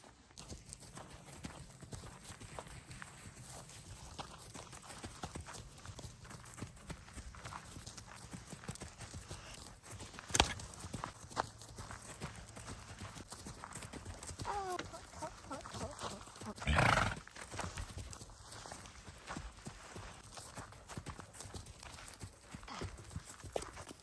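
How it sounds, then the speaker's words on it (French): A pony walks outdoors, its hooves clip-clopping in a steady, soft rhythm at moderate distance, with faint wind, a sharper knock around the middle and a brief louder bump later. "Avec le cheval."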